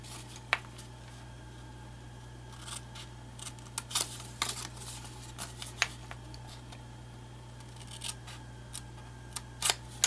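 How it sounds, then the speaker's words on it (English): Snips cut card stock up to a score line, giving a series of small, crisp clicks and snips spread irregularly over a quiet background with a steady low hum. "I'll take my snips and just cut up to that score line"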